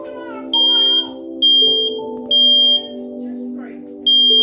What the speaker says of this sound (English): Don't you hear smoke alarm going off?